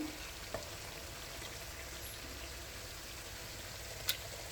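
Tomato sautéing in a pan for binagoongang baboy sa gata gives a faint, steady sizzle with a couple of tiny sharp clicks and no talking.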